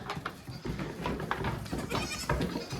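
Goats on a farm bleat repeatedly at close range, several wavering calls overlapping in a noisy pen.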